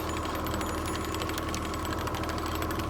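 A boat's outboard motor runs steadily on Lake Geneva during a fishing trip, a constant mid-pitched mechanical hum with no breaks for the whole stretch.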